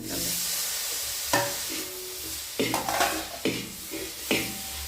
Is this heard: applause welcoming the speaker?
no